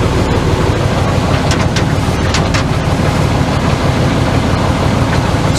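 The circle turn gearbox on a Cat 14 motor grader runs as a loud, steady mechanical drone and rumble close by, with no talking.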